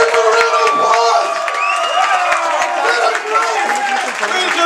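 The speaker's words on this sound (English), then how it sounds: "Give them a round of applause!" A concert crowd cheers and applauds as a thrash metal band is called to the stage, with whoops, scattered claps and excited voices shouting over one another.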